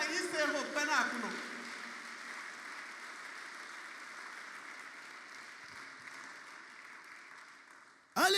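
Church congregation acclaiming the Lord with applause, a dense steady patter of clapping and voices that swells early, slowly fades, then returns sharply at the very end.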